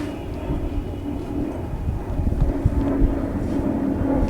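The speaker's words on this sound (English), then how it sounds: "Plane going out" A steady low roar of a jet airplane passing at a distance through storm clouds over East Coast Park, Singapore, with some wind noise buffeting the microphone.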